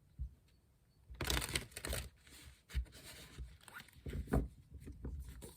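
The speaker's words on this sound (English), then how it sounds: "Some shuffling first." Tarot cards being shuffled during a weekly reading, giving bursts of papery riffling and slapping that come in two or three clusters with quiet gaps between them. The sound is close and moderately soft, with no voice.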